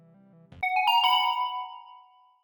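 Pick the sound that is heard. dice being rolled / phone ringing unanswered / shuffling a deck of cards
phone ringing unanswered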